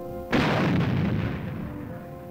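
A single heavy gunshot on a military firing range booms out, then a long rumbling echo decays over the following two seconds.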